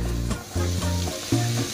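Peppers go into a pan of frying onions, giving a loud, close, continuous sizzle with a few short shifts as the pan is stirred.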